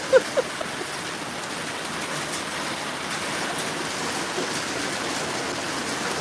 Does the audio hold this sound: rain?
yes